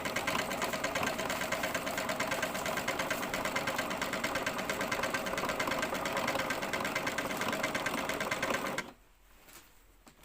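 An electric sewing machine stitches trousers in a fast, steady mechanical whir with rapid needle clatter, loud and close, running unbroken for nearly nine seconds before stopping abruptly into quiet room noise.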